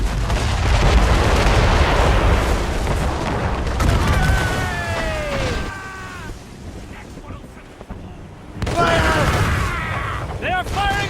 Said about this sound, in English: They are firing a volley!